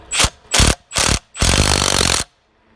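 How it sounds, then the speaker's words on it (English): A socket wrench with a deep socket spins wheel nuts back onto a car wheel during a tyre change, making three short loud ratcheting bursts and then one longer continuous run, all close up with no talking. "we'll start it off again with the deep socket"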